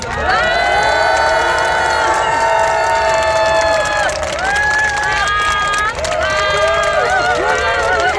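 A crowd cheers and shouts at an outdoor political rally for Lee Jae-myung at Gangnam Express Bus Terminal, a dense roar of voices and whoops sustained throughout, loud and close.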